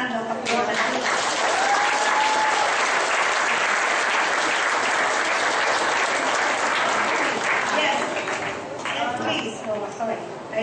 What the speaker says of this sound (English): let's give our speakers a big hand of applause